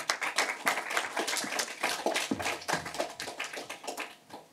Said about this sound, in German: Mit einem Applaus.